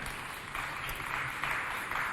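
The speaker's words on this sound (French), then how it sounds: "On applaudit s'il vous plaît." An audience at a youth holiday quiz contest at a cultural centre claps steadily, a dense, even wash of applause with no voices over it.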